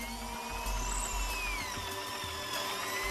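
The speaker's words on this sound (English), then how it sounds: "Do you have the hammer drill function on, too, by the way?" A hammer drill bores into hard rock in a cave, sending out a continuous grinding whine with a steady low rumble and faint rattling, fairly close and alone without talk.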